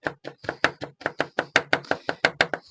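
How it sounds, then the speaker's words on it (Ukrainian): Garlic chopped with a knife on a board while cooking a cabbage stew in a cauldron: about fifteen quick, crisp, evenly spaced knife strikes, close and loud, with no talking. "зараз ми наріжемо часничок, щоб у нас все було готове"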